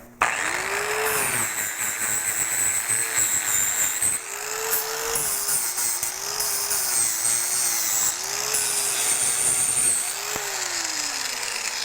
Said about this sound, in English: So I don't know if you could hear that while the tool was running.